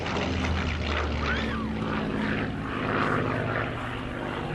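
A Spitfire fighter with combat history flies at the Classic Fighters Omaka 2023 airshow, its piston engine and propeller giving a loud, steady droning roar throughout, with no voices.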